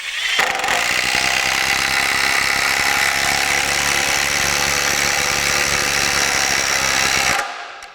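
A Milwaukee M18 compact brushless drill bores a hole, droning loud and steady for about seven seconds, then cutting off sharply as it breaks through the bottom.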